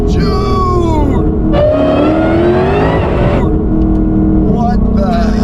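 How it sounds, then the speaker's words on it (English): A supercharged Ford GT500 on a carbon track pack, making nearly 1200 hp, pulls hard in third gear from 60 with its tires spinning. The engine howls loud and close, its pitch climbing and then dropping. "Dude, I can't believe it's spinning that much in third gear."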